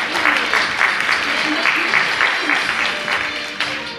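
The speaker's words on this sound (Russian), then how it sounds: "И также аплодисменты зрителей." Audience applause at a Miss Bellydance Ukraine 2013 pageant, a steady wash of clapping hands lasting a few seconds before tapering off slightly.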